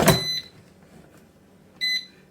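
An air fryer being switched on for ribs: a sharp clunk followed by a short high electronic beep, then a quiet pause and a second brief beep near the end, close by.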